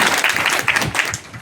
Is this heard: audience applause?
yes